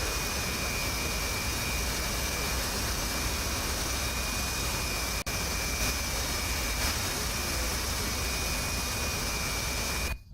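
F/A-18 Hornet jet engine revving in DCS World, a loud, steady roaring whine with a constant high tone that holds for about ten seconds before cutting off abruptly.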